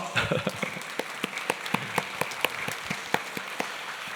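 A church congregation at Full Gospel Daegu Church claps after a Sunday sermon. The applause is thin and scattered, with distinct individual claps at an uneven rhythm, fairly quiet and fading over about four seconds.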